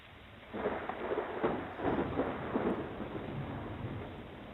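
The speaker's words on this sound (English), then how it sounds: "the sounds of rain and thunder" A low rumble of thunder rolls in over a steady patter of rain, muffled and distant, building then fading slowly.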